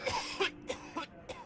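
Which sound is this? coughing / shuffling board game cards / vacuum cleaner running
coughing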